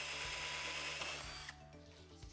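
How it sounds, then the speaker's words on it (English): A power drill whirs loudly and steadily, boring guide holes into a panel set just off the edge of a workbench, and the pitch drops slightly partway through. "I'm now ready to drill my guide holes"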